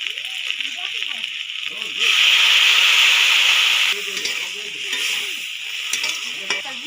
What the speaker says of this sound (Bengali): এটা দিয়ে আবার কিছুক্ষণ নেড়ে নেব।